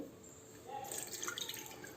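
Water drips and trickles from soaked rajma kidney beans in a home kitchen. The sound is soft and close, a brief wet patter rising slightly toward the end over low background noise.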